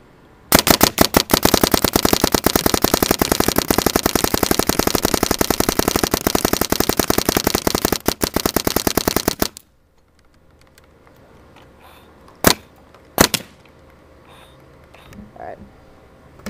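A stock Smartparts Ion paintball marker fires in a long rapid burst, dense even shots for about nine seconds, loud and close, then silence broken by a couple of single sharp shots and faint voices.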